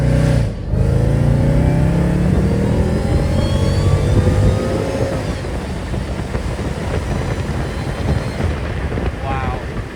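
A Mercedes E55 AMG pulls hard toward redline on a road, a loud continuous rising engine roar buffeted by heavy wind noise on the microphone, holding strong for the whole stretch.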